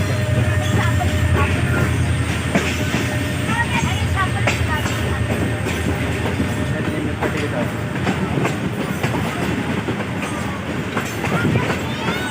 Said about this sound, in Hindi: जैसे ट्रेन आ रही है